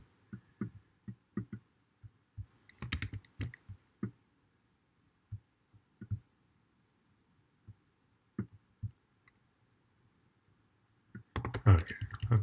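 Sparse keyboard clicks in short bursts and single taps, with quiet gaps between, and a louder flurry of typing at the end.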